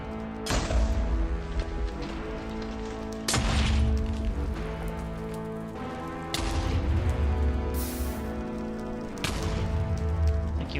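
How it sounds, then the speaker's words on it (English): Explosions in Minecraft, a string of about four sharp booming blasts a few seconds apart, loud and close, over a steady tonal game music bed. "Thank you, Minecraft explosion physics."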